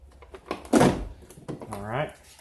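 The side door of a 2007-14 Ford Expedition is swung partly shut, giving a single muffled thunk while someone talks nearby.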